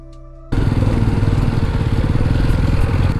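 Jawa 42 motorcycle engine running steadily while riding on a Nepal road trip, a loud, close, continuous mid-pitched drone with rapid regular pulsing that starts abruptly after a brief quiet moment and holds without talk.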